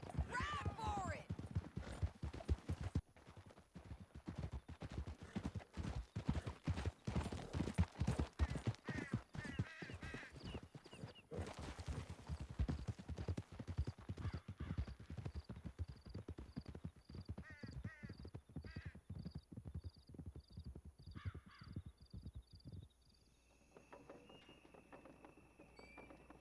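Hoofbeats of several horses galloping hard in Red Dead Redemption 2, a rapid steady clip-clop running through most of the stretch, with voices calling out and speaking over the riding.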